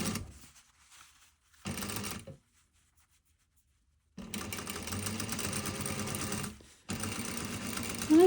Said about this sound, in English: I'm going to just top stitch along this folded edge